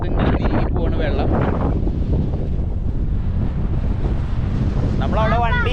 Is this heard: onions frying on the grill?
no